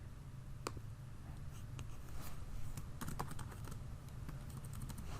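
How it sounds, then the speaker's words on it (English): Typing on a computer keyboard, quiet irregular key clicks in short bursts over a low steady hum, close but faint. "I'm typing it out in the text box"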